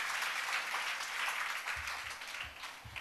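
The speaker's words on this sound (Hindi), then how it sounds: "मैं आप सभी से निवेदन करती हूँ कि एक बार जोरदार तालियों के साथ हमारे उपस्थित अतिथियों का स्वागत करें।" An audience at a school annual day event in Chennai applauds to welcome guests, a dense, sustained wash of clapping from a large crowd with a few soft low thumps near the end.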